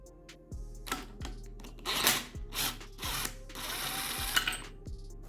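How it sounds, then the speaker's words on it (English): Socket wrench with a 6mm hex socket removing motorcycle handlebar clamp bolts, a series of soft ratcheting and metallic turning bursts with small clicks, fairly faint and close. "Now you can also take off the other 2 bolts."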